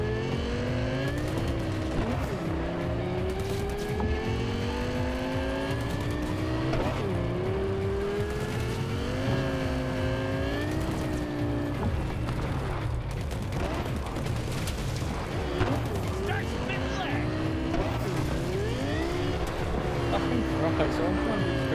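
Race cars in Cyberpunk 2077 roar continuously with rising and falling engine pitch and occasional tire squeal, loud and steady throughout, with someone talking over the driving.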